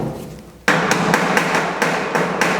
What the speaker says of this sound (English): we can use a pneumatic Pittsburgh seam hammer. It is a lot faster to close the seam than a hammer.